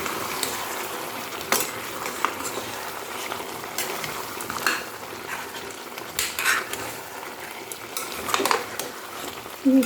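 Mutton curry with potatoes being stir-fried in spices in a pan, a low steady sizzle under intermittent scraping and clinking spatula strokes against the metal, close and fairly quiet, with no one speaking.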